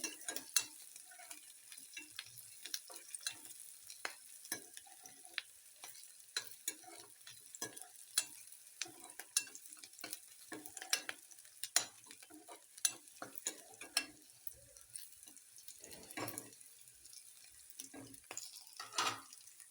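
Ginger fries in a pan while fenugreek greens are being cooked, quiet with frequent sharp clinks and scrapes of a stirring utensil over a faint sizzle, uneven in rhythm throughout.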